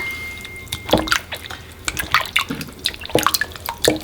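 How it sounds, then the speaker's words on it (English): Juices are poured over Anglo-Indian salt meat as it cures, making irregular close drips and small liquid splashes in short bursts. "pour the juices in."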